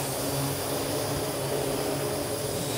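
A Parrot AR Drone strains in flight while carrying a three-quarter-pound package, giving a steady, loud whirring buzz of rotors that holds level throughout with no talking.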